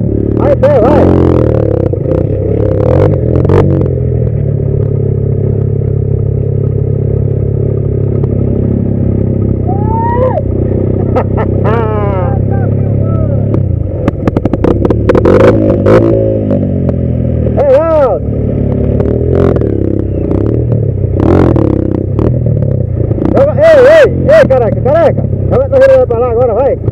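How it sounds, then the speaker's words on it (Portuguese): A motorcycle ridden on a mountain trail in the Serra do Cajueiro near São Mamede, its engine droning loud and steady throughout with shifting revs and clattering, while people talk and shout over it. "Ele vai em pé na moto, homem."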